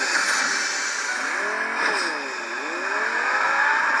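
A Fortnite car engine revs up and down in smooth rising and falling sweeps, with a constant mechanical drone underneath.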